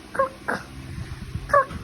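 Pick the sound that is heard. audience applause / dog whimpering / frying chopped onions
dog whimpering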